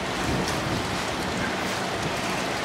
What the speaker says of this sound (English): it is raining cats and dogs. It's absolutely pouring.